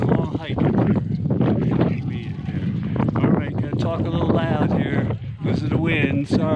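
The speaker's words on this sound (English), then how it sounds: "I got to keep my hat on because it's kind of windy up here" Strong wind buffets the microphone on a high mountain lookout at Hidden Lake in Glacier National Park, Montana, a steady loud rush beneath continuous talking.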